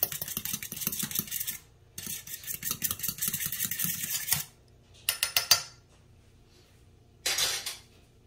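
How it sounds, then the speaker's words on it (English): Eggs whisked in a bowl, a brisk rhythmic clatter of the whisk against the bowl in several bursts separated by short pauses, close and clear. "Give those just a little whisk."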